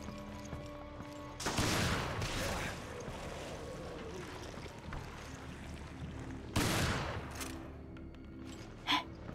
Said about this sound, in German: Ich kann schießen.